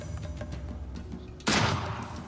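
A sniper rifle fires one loud, sudden shot at a target during a nighttime shooting game, cutting through a steady background hum and decaying slowly.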